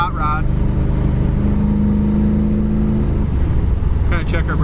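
A 1989 IROC Camaro hot rod cruising down the road, its engine giving a steady low drone from inside the car, with a brief rise in pitch before settling, loud and continuous, with a person talking over it.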